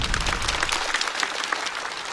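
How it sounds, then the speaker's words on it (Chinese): Steady applause from a stand-up comedy audience filling the whole stretch, dense and even with no voices over it. "再次掌声送给曹国。"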